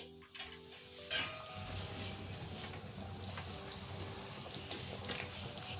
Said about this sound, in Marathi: आता त्यामध्ये मी हे फिश सोडते.